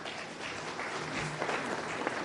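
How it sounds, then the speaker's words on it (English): Applause from an audience at a business breakfast meeting, a dense steady patter of many hands clapping at moderate volume, continuous throughout. "And a bigger round of applause for him."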